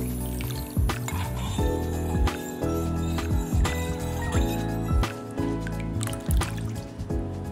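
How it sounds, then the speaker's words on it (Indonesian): A spoon stirring cooled coffee mixed with chocolate for a tiramisu dessert box, with repeated liquid swishes and light clinks against the container, steady and close, no talking. "Kopi yang sudah dingin tadi kita aduk sebentar hingga coklatnya menyatu."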